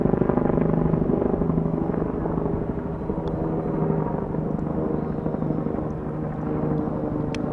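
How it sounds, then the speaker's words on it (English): A helicopter flies over a golf course, its rotor chopping out a steady, fairly close, loud low throb that holds throughout without talk. "helicopters flying overhead"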